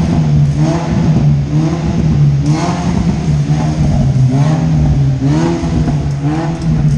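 A Hyundai Veloster 1.6 engine with a stainless steel exhaust diffuser revs repeatedly through its exhaust, rising and falling in loud, throaty pulses over a steady idle rumble.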